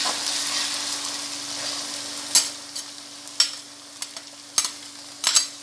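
Tomatoes hitting a hot frying pan while cooking daal mash, a steady sizzle with several sharp stirring clacks and scrapes of a utensil against the pan, close up with no talking.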